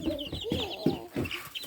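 Chickens cluck in a backyard coop, a steady run of short, close clucks and murmurs from several birds with no talk over them.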